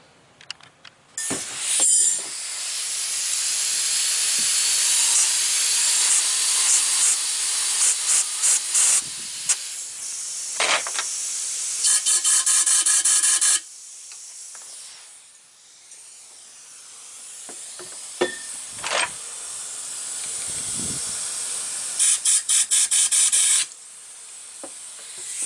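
Compressed air blasts through the AC lines of a 2010 fifth-generation car in long, loud, close hissing bursts, broken by short pauses and rapid sputtering pulses, with clicks and handling noise between them.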